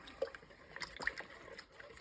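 Sourdough flour is mixed by hand into water in a bowl, with soft, quiet wet squelches and sloshes in an irregular rhythm.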